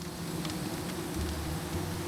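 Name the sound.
bees buzzing in the video game Psychonauts 2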